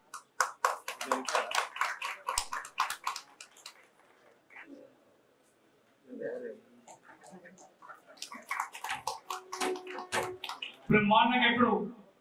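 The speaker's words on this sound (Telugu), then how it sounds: "చప్పట్లతో మన అసలు తెలియజేద్దామండి." An audience at a Hyderabad journalist union event breaks into scattered, moderately loud applause that soon fades. Someone speaks into a microphone afterward, and a shorter burst of clapping follows near the end.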